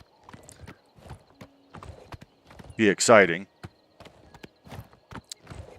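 Horse hooves clip-clopping along a road while riding in Oblivion Remastered, a regular close rhythm of hoof strikes with a louder burst in the middle, under a voice talking.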